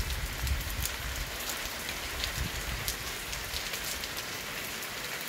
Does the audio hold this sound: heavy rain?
yes